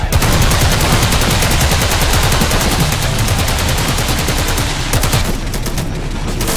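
Sustained, dense automatic gunfire from the zombie video game Men of the Dead, laid down as cover fire during an attack on a navy base, with loud rapid bursts rattling continuously throughout and no voices.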